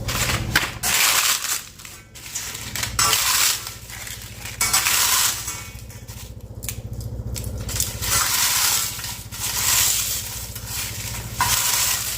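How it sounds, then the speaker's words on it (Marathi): Roasted urad dal papad is crushed by hand, giving a dense run of crisp crackling and crunching close up, steady for several seconds with brief pauses. "पापड मी थोडेसे असे चुरून घेतले"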